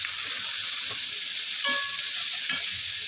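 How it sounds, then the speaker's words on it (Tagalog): Thinly sliced cabbage sizzling in a pan, an even, continuous hiss of frying with faint stirring, no voices. "Tapos guys, lagay na natin yung ating repolyo"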